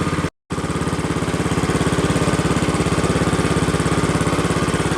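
A Massey 10 tractor engine runs nearby with a rapid, steady chugging pulse, loud and even apart from a brief dropout at the start.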